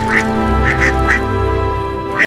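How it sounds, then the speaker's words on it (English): Cartoon duck quacking: several short, bright quacks spaced irregularly over a sustained musical background, with a final quack just before the sound cuts off abruptly. "Quack, quack, quack!"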